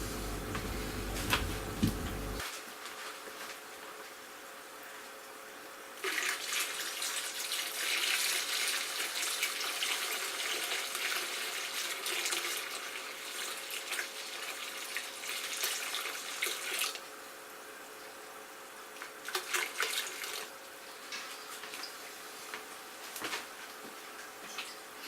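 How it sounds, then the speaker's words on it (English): Cold water runs from a tap into a home-brewing container for an English bitter kit, a steady splashing hiss that rises and falls in strength, with no talk. "so I add a little bit more cold water."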